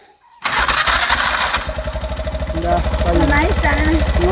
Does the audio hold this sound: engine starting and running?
yes